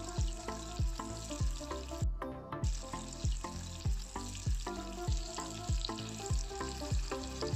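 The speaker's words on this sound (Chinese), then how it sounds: "放入裹好的香蕉， 转中火，轻轻翻动一下" Coated banana pieces fry in hot oil over medium heat, a dense, steady sizzle with rhythmic soft taps and scrapes as they are gently turned.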